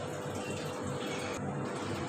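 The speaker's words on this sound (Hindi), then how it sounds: "अभी दूसरे पानी से धो रहे हैं।" Green chillies being washed in a second change of water in a kitchen bowl or sink, a steady close splashing and trickling wash of water that runs without a break and with no talk.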